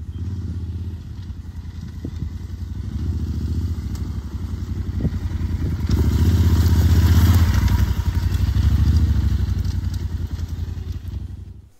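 A Yamaha Super Tenere 1200 adventure motorcycle fitted with an Akrapovic exhaust runs steadily close by, its throbbing engine note rising slightly in the middle before easing off near the end.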